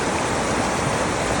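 Water rushing steadily at a forest stream, a constant broadband wash with no breaks over a brief moment.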